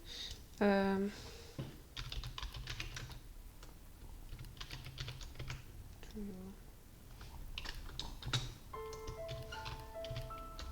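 Computer keyboard typing from the Nancy Drew game Secrets Can Kill Remaster comes as bursts of quick clicks over a faint background, with brief game chimes and a person speaking at moments.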